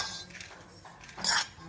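Crisp roasted coconut is moved onto a plate, with light metallic clinks and scrapes of a utensil against the dish and a brighter clatter near the end.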